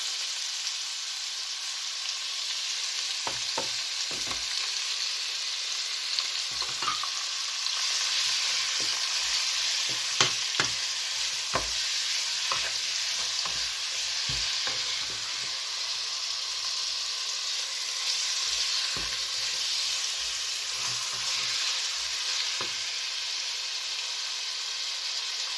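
Eggplant and onion sautéing in a pan, a steady close sizzle and hiss broken by repeated scraping and clinking of a utensil stirring, with no talking.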